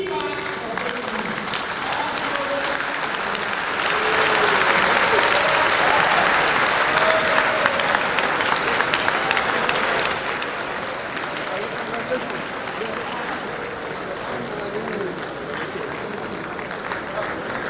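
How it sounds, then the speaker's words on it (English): Meeting audience applauding a speaker, a steady sustained clapping that swells louder in the middle and then settles into continued clapping, with some crowd murmur underneath. "May we please resume our seat as we give another round of applause to Professor Olakitan Ijagbemi."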